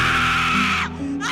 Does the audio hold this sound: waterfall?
no